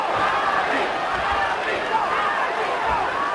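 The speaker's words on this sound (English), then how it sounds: "And a faint cheer of Ali, reminiscent of the old days" A boxing arena crowd cheers and roars with a continuous, fairly loud surge of voices throughout the women's bout, with no commentary over it.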